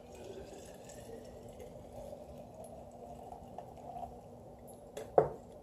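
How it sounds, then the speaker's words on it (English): Vegan bulletproof coffee is poured into a thermos as a quiet, steady liquid trickle, ending in a brief louder clunk near the close. "Pour it in my thermos so it can stay fresh and hot"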